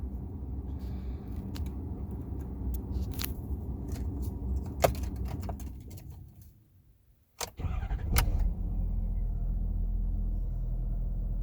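A 2014 Ford F-350 6.7L turbo diesel pickup idles with a heavy rumble, cuts out briefly, then cranks and fires back up, settling into a loud steady idle.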